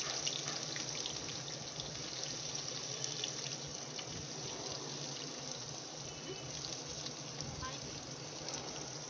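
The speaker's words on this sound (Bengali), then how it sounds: "আর আমি এখানে পেঁয়াজটা একে একে অ্যাড করছি সুন্দরভাবে।" Sliced onions dropped one by one into hot oil with cinnamon, cardamom, chilli, bay leaves and dried red chillies, giving a steady broad hiss and crackle that holds at even loudness throughout, with a voice speaking over it.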